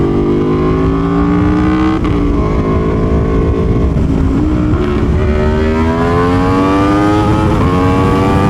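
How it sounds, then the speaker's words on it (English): A loud, close Tuono V4 1100 Factory motorcycle engine with modified exhaust revs continuously on open road, its pitch climbing in sweeping rises as it accelerates. "is this exhaust too loud?"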